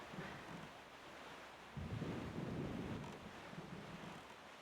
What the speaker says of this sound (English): Let's avoid the storm.